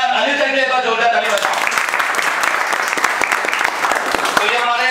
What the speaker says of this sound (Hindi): और तीसरा अनिल सर के लिए जोरदार ताली